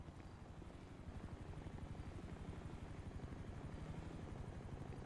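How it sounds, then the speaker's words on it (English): A helicopter in GTA V flies overhead, heard as a faint, steady rotor chop that pulses evenly throughout, with no talking. "There's a helicopter up there."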